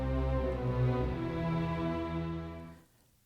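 An orchestra plays the three-note motif from Liszt's Les Préludes, a sustained, full, resonant phrase that holds steadily before fading to near silence at the end.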